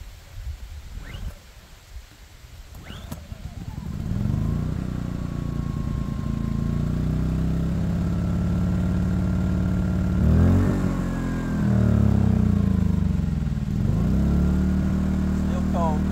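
A Harbor Freight Predator 2000 inverter generator, left sitting outside under a shed, is yanked with a few pull-starts, then catches and settles into a steady close idle, its hum rising briefly twice with faint talk nearby.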